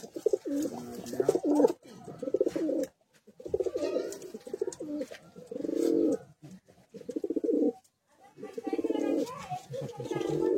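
A breeding pair of pigeons in a loft at Uluberia near Kolkata coo in repeated soft, throaty bursts separated by short pauses, close to the listener, with a few faint chirps between them.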